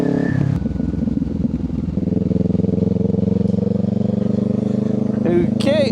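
A 2025 Kawasaki Ninja 500 motorcycle rides through the city, its engine humming steadily at moderate revs with a brief rise at the start, while a rider talks over it.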